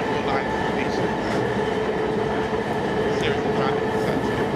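A London Underground train runs with a steady, close, enveloping rumble, its wheels clicking faintly over the rails throughout.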